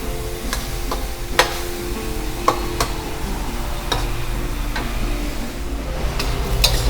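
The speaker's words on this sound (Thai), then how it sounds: "แต่ทีนี้ก็ผัดให้สตอสุกกันนะครับ" Minced beef and stink beans (sator) are stir-fried in a pan for basil stir-fry: a steady hiss of sizzling oil, broken by sharp ticks and clacks of the spatula against the pan, close up with no talking.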